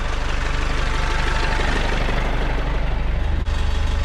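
A Kubota farm tractor's diesel engine idles steadily nearby, a low even rumble with a constant throb that holds level throughout, with one brief click near the end.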